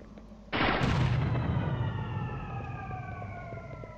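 A single loud blast from a weapon in the alien-fighting shooter game Alien Shooter hits sharply, then rings out in a long, slowly fading metallic tail, with no talk over it.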